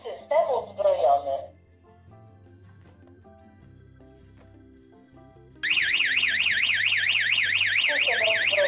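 A Satlink SL-GSM10C GSM alarm system being armed: after a short spoken phrase and a quiet pause, a loud, steady warbling electronic tone starts and sustains to the end.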